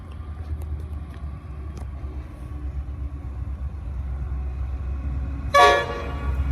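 A train led by an NR class locomotive rumbles past steadily in the distance, and about five and a half seconds in, a loud, short horn blast sounds over the low rolling noise.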